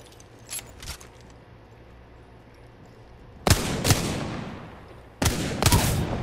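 Gunfire in a video game: a few faint shots early, then two loud close bursts of sharp cracks with ringing tails, separated by a quiet gap, and no talk.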